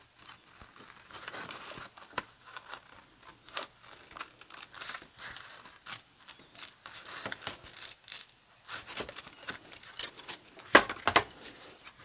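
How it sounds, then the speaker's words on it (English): Quiet snipping and crinkling, scattered cuts and rustles at close range, with a couple of sharper clicks near the end; no voices. "Scissors."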